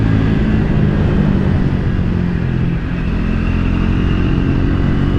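A Triumph Speed 400 motorcycle engine drones steadily while riding, a loud, continuous close-up roar mixed with wind rush and no voices.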